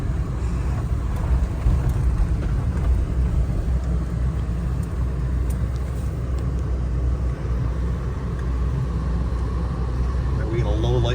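A 1978 Lincoln Continental cruising at about 50 mph on its first road outing in 38 years, a loud, constant low engine and road rumble with tire roar filling the cabin, steady throughout with no breaks.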